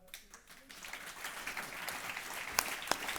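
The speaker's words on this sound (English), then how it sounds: "And round of applause for..." Applause from a panel-discussion audience, scattered clapping building into a fuller rattle under a murmur of voices, moderately distant and fairly quiet with a couple of sharper claps near the end.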